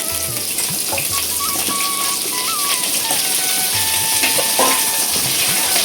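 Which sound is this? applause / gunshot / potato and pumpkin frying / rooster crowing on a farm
potato and pumpkin frying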